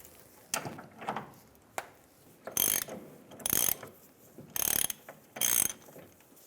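A ratchet with a 15mm socket loosens a bolt on a 2007-2013 Chevrolet Silverado 1500 during leaf spring work, four crisp bursts of rapid clicking spaced about a second apart, close and clear.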